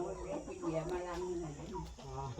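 Chickens cluck in a rural yard near a rubber plantation in a Thai village, soft and fairly close, while people chat in the foreground over them.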